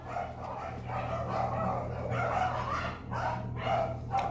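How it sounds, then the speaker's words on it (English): Several dogs bark on a mountainside behind a house, the sound carrying up a wall: repeated medium-distance woofs and yips in uneven bursts over a steady low hum, with no talk. "The dogs are barking on the mountain behind us"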